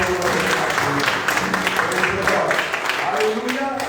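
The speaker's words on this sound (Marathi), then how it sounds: "जोरात टाळ्या वाजवून प्रेज द लॉर्ड." A church congregation claps loudly during a worship service, a dense and continuous wash of applause with a voice speaking over it.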